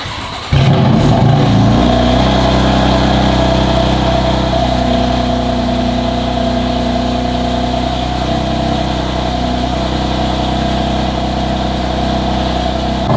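A BMW M car engine idles steadily with a deep, rumbling exhaust note after a brief burst of noise at the start, continuous and close.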